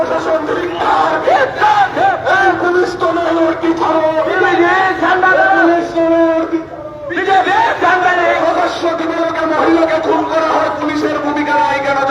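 A street protest crowd under red flags chants slogans in loud unison, rhythmic call-and-response phrases repeating closely with a brief pause midway, voices massed and near.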